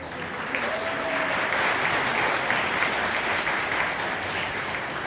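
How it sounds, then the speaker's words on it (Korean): Wedding guests applaud as the ceremony begins, a steady, full wash of clapping from a large hall crowd that holds evenly throughout. "여러분들의 박수 소리와 함께 시작해 보도록 하겠습니다"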